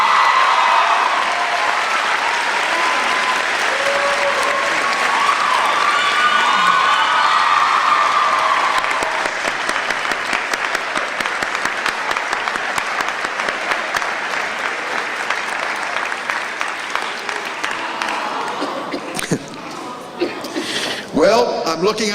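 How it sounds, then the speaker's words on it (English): A graduation audience at Southland College Prep gives a college counselor a long, loud round of applause, dense clapping with some cheering that thins out toward the end. "This is the right moment also for a round of applause for Ron Anderson, possibly the best college counselor in America."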